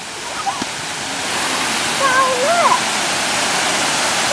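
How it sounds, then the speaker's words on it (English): Waterfall in Siargao, a broad, loud, continuous roar of falling water with faint voices over it, growing fuller after the first second. "The waterfall."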